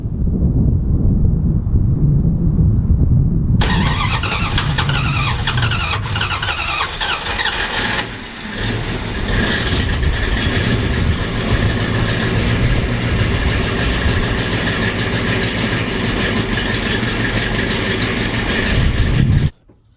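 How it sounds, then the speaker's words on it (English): A 1972 Dodge D100 truck, cold after sitting several days, cranks and fires, then runs at a loud, rough idle with wind buffeting the microphone, cutting off abruptly at the end. "I'm gonna start her up here"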